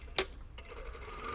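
A sewing machine stitches a shirt side seam, starting with a short sharp mechanical clack and then settling into a quieter running hum. It is close and brief, with no speech.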